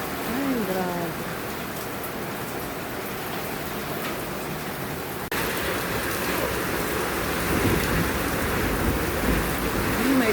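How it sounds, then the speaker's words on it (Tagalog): Heavy rain pours down steadily at a shop, with thunder rumbling in and the downpour growing louder partway through; a few brief voices are faintly heard. "biglang bumuhos ang malakas na ulan"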